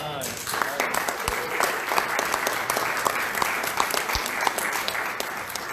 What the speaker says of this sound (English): I think I saw someone applauding